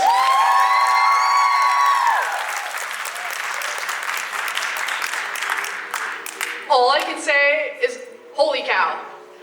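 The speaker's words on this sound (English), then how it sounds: "Can we get another round of applause, please?" Audience at a dance competition breaks into loud applause and cheering, with whoops and shouts rising over the clapping before it thins into scattered cheers and excited voices.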